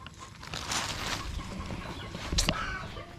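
Chickens at a rural yard cluck and squawk close by, a few scattered fowl calls with one sharper burst partway through over a soft background.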